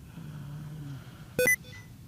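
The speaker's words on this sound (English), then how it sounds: "Oops, don't beep at me." A single short electronic beep, clear and moderately loud, cuts through a quiet room with a faint background hum.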